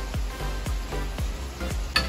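Chicken browning in a pan for a Japanese dinner, with steady sizzling and repeated stirring scrapes at a regular rhythm, close and moderately loud.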